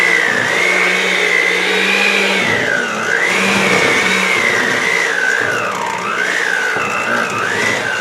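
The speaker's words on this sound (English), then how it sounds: "The mixer's working hard." A hand-held electric mixer strains through thick unicorn cake batter, its whining motor rising and falling in pitch as the load changes, loud and close, with no talk.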